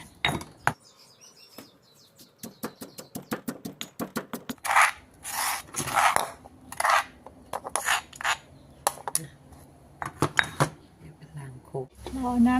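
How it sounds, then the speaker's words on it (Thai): Thai red curry paste being dry-fried in a pan for a jackfruit and free-range chicken curry, with rapid repeated scraping strokes of a spatula that build into longer rasping bursts, loud and close, with a brief spoken word near the end. "เอาพริกแกงลงไปคั่วนะคะ เนี่ย คั่วพริกแกงไปก่อนนะคะ ให้หอมก่อน"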